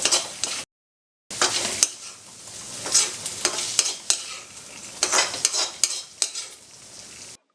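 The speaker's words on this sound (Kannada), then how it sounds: "ಫ್ರೈ ಮಾಡಿಕೊಂಡು ಗ್ರೇವಿ ಮಾಡ್ಕೊಳ್ತಾ ಇದ್ದೀವಿ." Onion and tomato frying in a pan for a chicken gravy, a loud close sizzle broken by repeated spatula scrapes and clinks, with one short silent gap and no talk.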